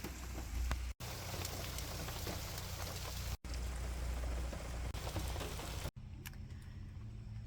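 Steady rain patters and hisses over a Florida campground, dense and continuous, with a few abrupt cuts in the recording and a quieter stretch near the end.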